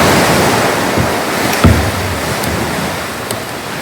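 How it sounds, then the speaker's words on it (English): Ocean waves surge and crash around sea caves while kayaking in Barkley Sound, a steady roaring wash with wind buffeting the microphone and a few sharper splashes. "a big wave coming in"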